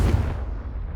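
A single Confringo blasting spell in Hogwarts Legacy bursts as a deep, rumbling explosion with a heavy low thump that fades away within a second.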